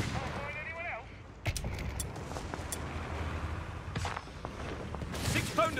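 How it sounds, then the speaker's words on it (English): Gunfire bursts crack through a Company of Heroes 3 battle, with sharp, distant-sounding shots and brief rattles scattered over a low rumble of combat ambience. "Nice machine gun."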